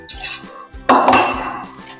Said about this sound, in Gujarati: સૌપ્રથમ આપણે આમાં મિક્સર જારમાં થોડાક મગ લઈ લઈશું